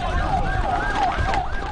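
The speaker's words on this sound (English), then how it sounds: "was transported to Gaza in an ambulance" An ambulance siren in the Gaza Strip wails loudly and up close, its pitch sweeping up and down in a quick, brief burst.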